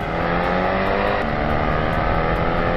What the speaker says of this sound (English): They, they love a V8 that sounds like a proper V8